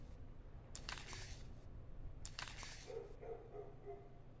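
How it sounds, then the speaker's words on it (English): Two short bursts of dog barking sound in the horror visual novel Spirit Hunter: NG, set late at night in a neighbourhood. The barks are faint and distant, spaced about a second and a half apart, over a low ambient hum. "The neighbor's dogs are barking."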